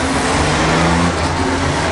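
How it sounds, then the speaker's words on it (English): Gas-engine pulling tractor launching off the line at the 2013 Norfolk County Fair tractor pull on a dry evening track, a loud, steady, close engine roar that holds its drive for the whole moment. "A little gas engine, he's coming off the line."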